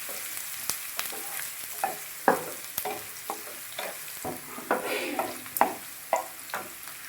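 Onions fry in hot oil with a steady soft sizzle while a spoon stirs and taps the pan at irregular intervals, close and moderately loud with no voices.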